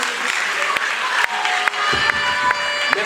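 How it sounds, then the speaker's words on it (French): An audience applauds after a closing speech on the polluter-pays principle at a formal debate session. The clapping is a steady, dense patter with a few sharper claps, and a voice speaks over it. "on applaudit."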